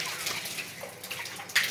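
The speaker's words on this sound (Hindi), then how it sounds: "बाल्टीन में रस्सी फंसा के देखियो केना लावल जाइए।" A bucket tied to a rope draws water from a village well, with faint splashing, sloshing and dripping sounds in short irregular bursts, one brighter splash near the end.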